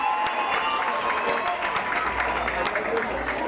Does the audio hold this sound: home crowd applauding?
yes